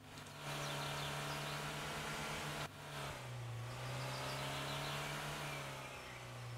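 A car engine drones steadily while driving straight ahead in the simulation game Trader Life Simulator 2, a smooth mid-pitched hum with a brief dip like a gear change before settling back into a constant cruise.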